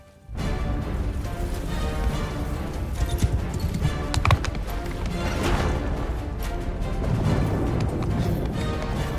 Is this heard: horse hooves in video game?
yes